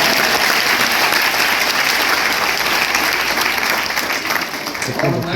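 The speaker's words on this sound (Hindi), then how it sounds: "जी ताली बजाओ।" Sustained applause from a seated audience at a poetry session with a famous poet, loud and dense throughout with no break in the clapping.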